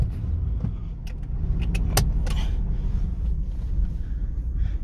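A Honda Acty kei truck engine cranks and runs roughly in a garage, a low uneven rumble with a few sharp clicks and rattles, close and steady, with no talk.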